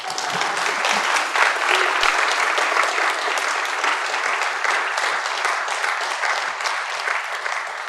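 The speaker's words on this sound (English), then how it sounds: "You can clap now." Audience applause after a RubyConf talk on machine learning in Ruby, loud and dense, a sustained roar of many hands clapping for several seconds with no talk over it.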